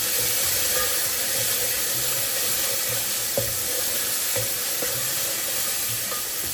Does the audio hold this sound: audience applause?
no